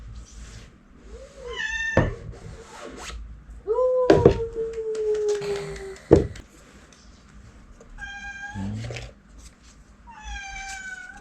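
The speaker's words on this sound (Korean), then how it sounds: "고양이가 너무 울어요." A cat meows repeatedly and loudly nearby, several drawn-out rising and falling cries spread through the stretch, mixed with a few sharp thunks and knocks in an indoor room.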